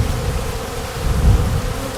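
Hornets or wasps buzzing continuously around a neglected honey beehive, a close, dense insect drone with no talking.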